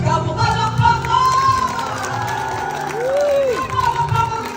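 A crowd applauding and cheering at a surprise birthday party for a mother, with steady clapping and shouts of excitement, a few voices cutting through.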